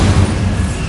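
A Bombarda explosion spell cast in Hogwarts Legacy lands as a single loud, deep boom that rumbles on through the whole short moment with no break.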